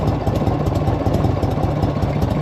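A 1984 Harley-Davidson motorcycle engine idles close by, a loud, steady rumbling chug with an even pulsing rhythm throughout.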